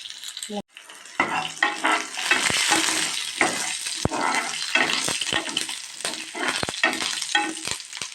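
Spices, shallots, dried red chillies and tamarind sizzle steadily in a hot pan while a spoon scrapes and stirs through them, with occasional clinks against the metal.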